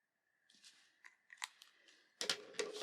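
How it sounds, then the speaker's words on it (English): Scissors cut a paper sewing pattern in a quiet room, giving a few crisp close snips and crunches spaced irregularly and growing louder toward the end. "and I cut all of this away"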